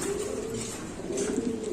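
Fancy pigeons in a loft coo steadily, their low, throaty rolling calls overlapping continuously at close range with no talking.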